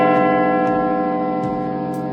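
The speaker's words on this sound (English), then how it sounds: "When you release the cable, it strikes the bell." The great bell in Big Ben's Elizabeth Tower, struck by a cable-lifted hammer, rings with a steady, sustained metallic hum, with faint light ticks over the resonance.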